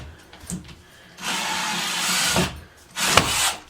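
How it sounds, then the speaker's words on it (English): A bolt for a TV wall mount is driven into a wall stud with a power tool in two sustained grinding bursts, close, with short pauses and faint handling knocks between them. "Then we're going to put our first bolt in."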